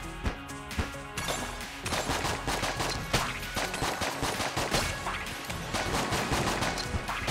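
A weapon in the video game Enter the Gungeon fires in rapid, loud bursts, a dense volley of overlapping shots and impacts running almost continuously, without talk.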